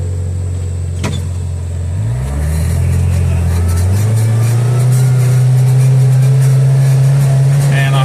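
Kawasaki Crew UTV on 35-inch tires with a JBS clutch spring kit and Alba tune, shifting into high range and accelerating on a hard road; the close engine drone climbs in pitch and then holds a loud, steady note.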